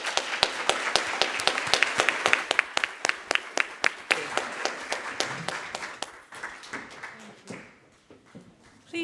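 A small audience claps for panelists after a talk on racial equity, sharp separate claps forming a moderate round that thins and fades out over several seconds.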